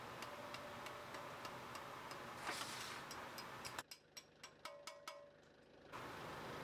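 A steel pin is tapped into a Kioti tractor backhoe bucket with a series of sharp, evenly spaced metallic taps, faint at first under a steady engine idle, then clearer once the engine noise drops away.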